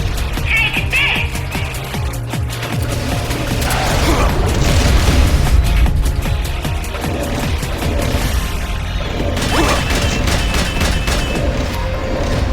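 Rocket launcher explosions in the PSP video game Metal Gear Solid: Peace Walker, fighting Metal Gear ZEKE: continuous loud booming blasts and crashing bursts over a rumbling game soundtrack, with no voices.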